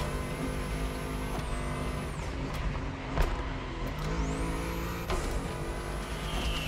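Race car engine in the video game The Crew Motorfest, a sustained droning engine with shifting pitch and a couple of rising and falling whines, continuous and fairly close.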